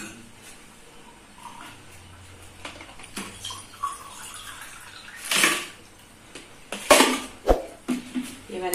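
Wet clattering and sloshing as Kashmiri pink tea is whisked with cold water in a pot, with a few sharp metallic knocks toward the end, close by and fairly loud.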